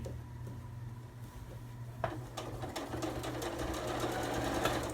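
A sewing machine stitches through a bulky fabric water bottle cover, a steady fast mechanical whir with a low hum underneath, running continuously and close.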